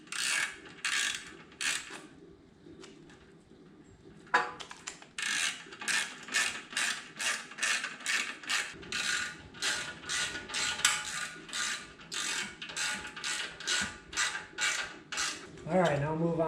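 Rapid ratchet clicks tightening exhaust bolts on a Honda Shadow Spirit 750 motorcycle during a Cobra Streetrod Slashdown exhaust install, close and steady in repeated bursts with short pauses.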